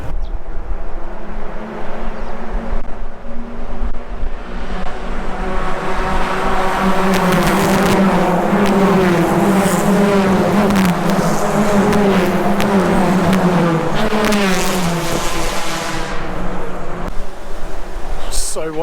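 Small Hyundai Excel race cars lap a street circuit in Townsville, several engines droning and rising together at moderate distance under wind noise, swelling as a pack passes and then fading.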